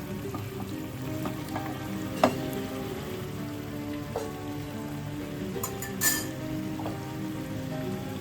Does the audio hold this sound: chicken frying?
yes